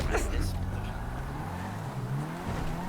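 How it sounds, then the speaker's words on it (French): A car drifts through a racing video game, its engine droning and rising in pitch with steady sliding noise throughout, moderately loud, while a person talks over it. "Mais je te montre le drift."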